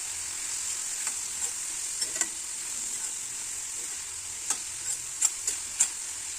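A hundred grams of mushrooms with turmeric fry in a pan, sizzling steadily and closely, broken by several sharp spatula taps and clicks, with no speech.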